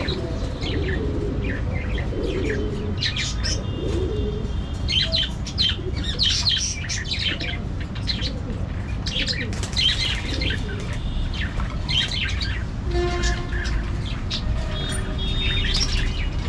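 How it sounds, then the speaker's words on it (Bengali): Pigeons kept in a loft, among them a local Gollamadi pigeon, give repeated squawks and chirps, with wing flaps now and then over a steady low background hum. "এইটা হচ্ছে আমার একটা দেশি গোল্লামাদি কবুতর"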